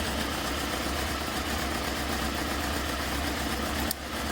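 A twenty-year-old Honda CBF 600 motorcycle engine idles after fresh spark plugs, a steady close rumbling drone with faint uneven pulses, ending with an abrupt click and a drop in level.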